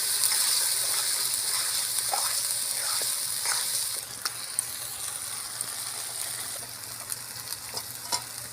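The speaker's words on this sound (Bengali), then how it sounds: "ভালো করে সব কষাচ্ছে" Ground onion paste with tomato, Kashmiri red chilli and spices sautéed in a pan for a chicken curry, a continuous moderate sizzle with scattered scraping and stirring clicks, softening slightly midway, no voices.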